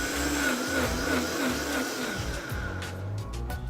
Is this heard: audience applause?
no